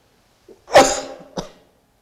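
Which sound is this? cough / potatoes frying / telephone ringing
cough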